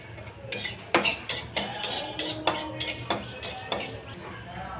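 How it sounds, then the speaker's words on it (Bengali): Black cumin seeds dry-roast in a pan for coriander-leaf bharta, with a utensil clinking and scraping against the metal in a quick, uneven series of sharp taps over a quiet background. "কালো জিরা ভেজে নিব"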